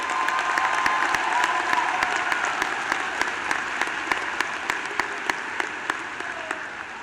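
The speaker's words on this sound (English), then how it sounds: "Can we just give a round of applause for the graduating students of 2024?" A large crowd at a high school commencement ceremony applauds the graduating students, with steady, sustained clapping from many hands, some sharp individual claps standing out and faint cheering mixed in, filling the hall from start to finish.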